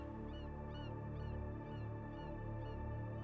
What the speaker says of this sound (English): I don't hear anything except for the birds.